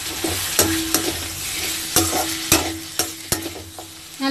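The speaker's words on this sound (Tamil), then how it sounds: "இதெல்லாம் போட்டு நல்லா வதக்கிக்கோங்க." Large-cut onions and a chopped tomato are stirred and sautéed in a pan for cauliflower bajji fry, a soft sizzle broken by repeated sharp clicks and scrapes of the spoon against the pan.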